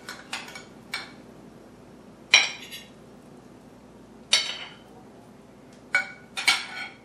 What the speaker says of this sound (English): So I'm just going to take a spoon